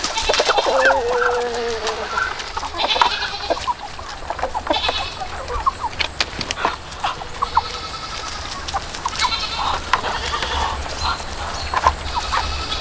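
A flock of chickens on a homestead clucks and squawks continuously as they are let out in the morning, with other farm animals calling now and then in a busy outdoor scene.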